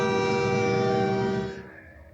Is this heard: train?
yes